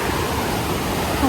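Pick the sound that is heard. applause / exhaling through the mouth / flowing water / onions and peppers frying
flowing water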